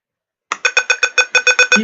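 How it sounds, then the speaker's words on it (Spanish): A heart rate monitor's buzzer signals a finished measurement with about ten rapid, evenly spaced electronic beeps, loud and close, after a moment of silence. "nuestro equipo nos indica por medio del zumbador que ya se hizo la medición"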